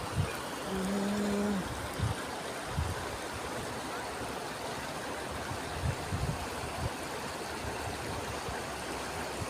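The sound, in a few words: Trishuli river flowing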